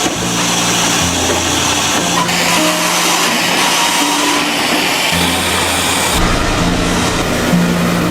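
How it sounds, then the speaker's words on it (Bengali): A bamboo opening machine cuts pieces of bamboo from underneath with a knife, making a loud, steady mechanical drone whose tone shifts now and then as pieces pass through, continuous throughout. "এরপর নেওয়া হয় ওপেনিং মেশিনে এখানে প্রতিটি বাঁশকে নিচ দিয়ে কাটা হয়"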